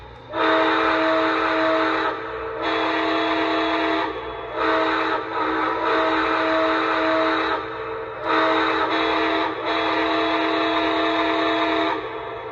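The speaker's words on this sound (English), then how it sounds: "Here's the whistle, and this is a really good whistle." A model steam locomotive's whistle sound effect blows loudly in long chord-like blasts with brief breaks between them, over a steady low mechanical hum.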